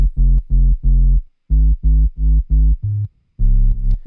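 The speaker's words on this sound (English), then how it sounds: "So this is the sub for the track." Soloed sub bass part from an electronic track plays alone as short, heavy, distorted low notes in a rhythmic pattern, with brief gaps between phrases.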